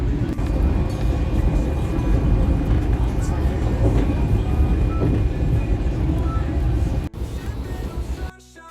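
Steady rumble of a passenger train travelling toward Edinburgh Waverley after a change at Falkirk Grahamston, loud and continuous with a faint whine, the noise dropping away near the end.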